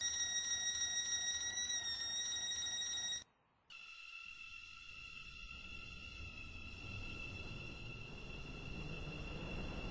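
A Stepford Connect train in the Roblox game Stepford County Railway: steady electronic hum with high whining tones, a brief dropout, then a rising rumble of the train moving on; no voices.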